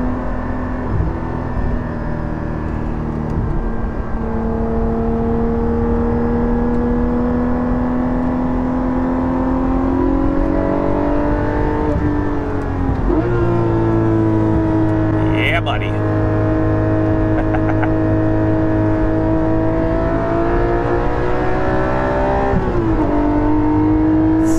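A Porsche 718 GT4 fitted with a Soul Performance rear exhaust section accelerating through the gears, its engine note rising steadily and dropping at each shift, heard continuously from inside the car.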